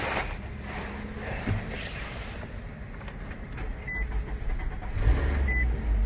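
A salvage car from a Copart or IAA auto auction starting up: a steady low mechanical rumble throughout that swells into a louder, deeper engine hum near the end, with no talking.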